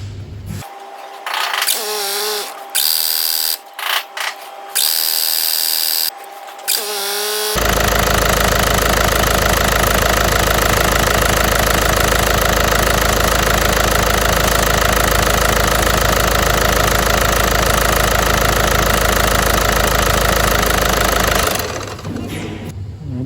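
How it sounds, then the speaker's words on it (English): A VW Polo 1.6 TDI diesel is cranked and fires after a service with a new fuel filter, then settles into a loud, steady clattering idle that runs without a break for about fourteen seconds before shutting off. "I'm just going to strike it up, just leave it running for 10-15 seconds, then turn it off"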